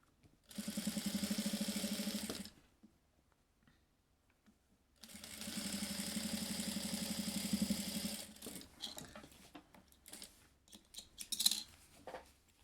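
A sewing machine stitches a passport wallet in two bursts of rapid, even whirring and clatter, each about three seconds long, followed by light handling and clicks.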